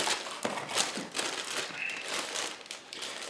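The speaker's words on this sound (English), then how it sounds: "So we have a couple of plastic bags." Plastic bags inside a Zvezda 1/144 Boeing 787-8 model kit box crinkle and rustle in close, irregular bursts, loud and near, with no talking.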